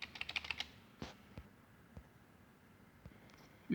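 Keys tapped on a computer keyboard to enter a command, a quick burst of clicks at the start, then a few spaced single keystrokes, close and quiet with no voices.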